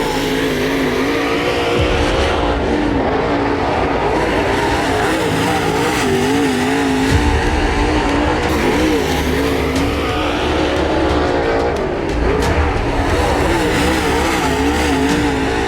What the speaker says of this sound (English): your Hunt the Front Super Dirt Series point leader, the Newport Nightmare, Jimmy Owens, in car number 20.